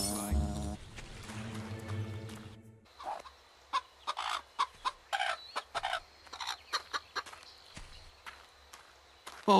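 Chickens in the Fable Anniversary video game on an orchard farm cluck in a rapid series of short, sharp calls, mixed with footsteps after a brief stretch of voiced dialogue at the start.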